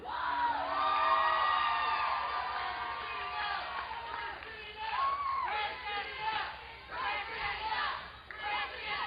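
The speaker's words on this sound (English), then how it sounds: "As the crowd starts the Christina chant" A live crowd at an Ohio Valley Wrestling show whoops and yells in sustained voices, then breaks into rhythmic chanting bursts that carry on steadily throughout.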